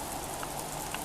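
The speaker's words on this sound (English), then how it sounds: "the lovely rain" Steady spring rain falls on a garden, a dense even hiss of drops with a few brighter patters standing out, moderately quiet and continuous with no voices.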